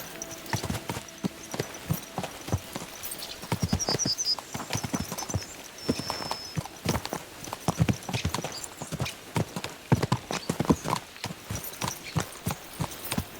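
Horses clatter along in the video game Kingdom Come: Deliverance II, with a steady, fast clip-clop of hooves continuing throughout and a brief whinny partway through.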